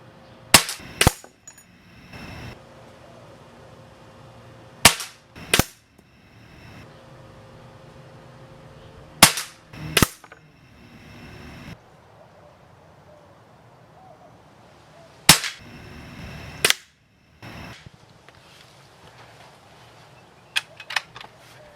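Barra 1866 .177 air rifle fired from a bench rest: sharp, isolated shots arrive in pairs, each a crisp crack with a quick echoing tail, separated by several seconds of quiet handling noise.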